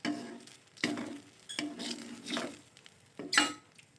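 Garlic and egg soup being stirred in hot oil in a pan, with repeated scraping stir strokes at an irregular rhythm over a soft sizzle, close up and with no talking.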